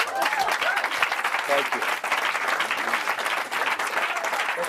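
Lively audience applause at a hypnosis stage show, dense clapping throughout with a few voices and a brief spoken thanks over it.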